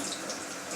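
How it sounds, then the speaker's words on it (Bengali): Whole cumin, green cardamom, cloves, cinnamon and green chillies sizzle in hot oil for a curd chicken dish, a steady soft hiss and crackle with no talk. "আমরা দিচ্ছি গোটা জিরে, এরপর দিচ্ছি ছোট এলাচ, লবঙ্গ, দারচিনি আর কাঁচা লঙ্কা"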